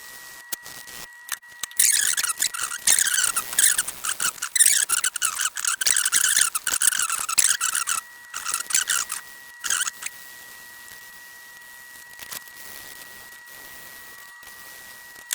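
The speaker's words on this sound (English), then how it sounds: "I can just start sanding this part, so it'll stick pretty well." Close, scratchy sanding strokes with fine-grit sandpaper on a plastic car tail light rasp back and forth in quick irregular bursts, then thin out to a few scattered scrapes before fading to quiet.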